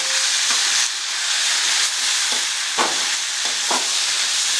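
Tomato pieces drop into a hot frying pan of dried red chillies for mutton curry, a loud continuous hiss and sizzle with a few soft thuds as they land.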